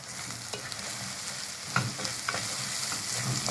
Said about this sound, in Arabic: نحط شوية قرفة اهوت. تمام. وهنبتدي نقلب تاني.